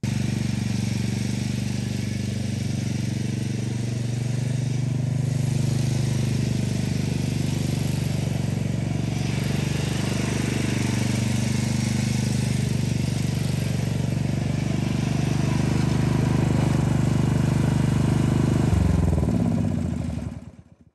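A Troy-Bilt TB30 rear-engine riding mower runs on test after a steering repair. Its small engine holds a steady, close, loud drone for about twenty seconds and then cuts off at the end.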